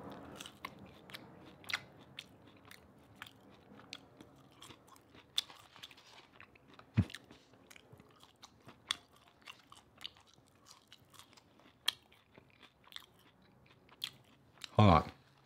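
Burger King fries dipped in sweet and sour sauce being bitten and chewed close to the mic, with soft crunchy bites throughout and a louder burst near the end.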